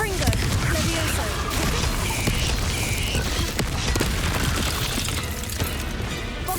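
Spell explosions in the video game Hogwarts Legacy burst in a dense, continuous barrage of booming blasts and crackling impacts that stay loud throughout, with little pause between hits.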